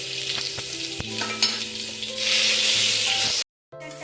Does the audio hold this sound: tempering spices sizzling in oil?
yes